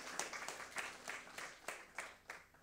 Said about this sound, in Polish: I brawa dla naszego Pana